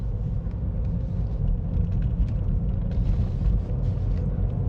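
Car engine rumbling low and steady as gentle throttle is applied while driving around a bend on a UK road, a continuous close drone with mild swells and no speech.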